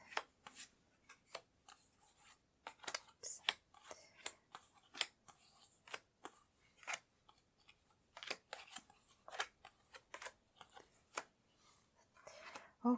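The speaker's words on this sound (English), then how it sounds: "I'm going to place the cards down for you" Tarot or oracle cards being laid down one after another on a table, making soft, quiet snaps and slides in an irregular rhythm with short pauses between them.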